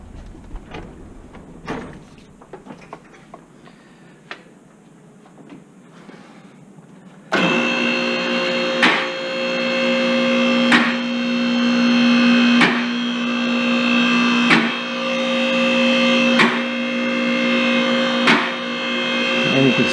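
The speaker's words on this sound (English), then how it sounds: "We're going to raise it back up again" A car lift raises a 2007-2011 Honda Accord during front strut and upper control arm work: after quiet shop clatter, a loud, steady electric-hydraulic motor whine starts and runs continuously with periodic clicks, close and dominant.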